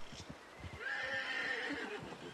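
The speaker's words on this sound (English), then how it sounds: "Horse wouldn't ride across with me on it." A horse in a video game whinnies loudly in one long rising-and-falling call, with hoof clip-clops thudding beneath it, close by and without speech.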